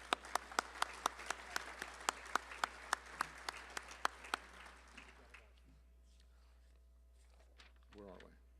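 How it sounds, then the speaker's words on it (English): Applause at an architecture and urbanism awards ceremony: sharp, fairly regular claps ring out for about four seconds, then fade away into a quiet room with faint talk. "I think she also deserves applause at this after 15 years"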